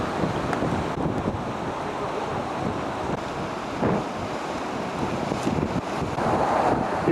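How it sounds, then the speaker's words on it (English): Storm waves surge against and pour over a harbour breakwater in Porto, Portugal, a continuous roar of surf and water with steady wind noise on the microphone and a louder swell near the end. "Notice how that water plummets right over the top of that breakwater."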